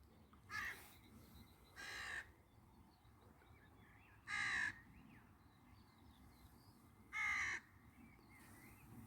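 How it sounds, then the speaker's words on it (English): A crow caws four times in harsh, spaced bursts from a moderate distance over a low outdoor background hum. "There's a crow over there that doesn't sound too pleased at something."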